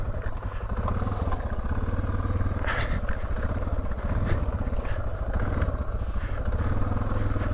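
Off-road motorcycle engine revving steadily and close while riding a rough boulder trail in the Golan Heights, with occasional clatter and scrapes over rocks throughout.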